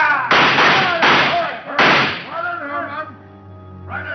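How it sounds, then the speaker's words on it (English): Three sharp, loud gunshot bursts ring out close together in a radio drama shootout, followed by lingering tonal sound and a brief voice near the end. "They tried to shoot it out."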